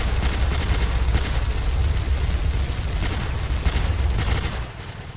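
Sustained, dense gunfire from enemy soldiers in a Druzya Reunion 2 shooter game, a steady roar of overlapping shots and blasts that runs loud throughout and eases slightly near the end.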